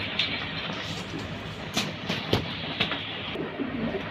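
Pigeons at a seller's stall in Panchabati, Narayanganj, give soft, low coos amid a busy, rustling background of scattered knocks and shuffles.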